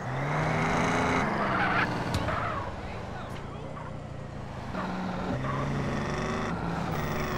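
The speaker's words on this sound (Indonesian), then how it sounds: "Oh, anjir, kencang banget ini nitronya." A car in GTA San Andreas accelerates under nitro boost. The engine roars loudly and steadily, with its pitch rising and shifting and brief whooshing surges partway through.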